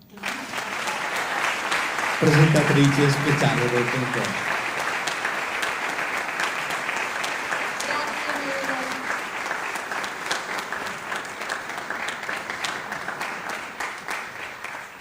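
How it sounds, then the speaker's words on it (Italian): Sustained audience applause fills the hall at the closing event of a national choral competition, steady and dense throughout, with a presenter's voice briefly speaking over it early on. "chiedo un applauso speciale per Marta"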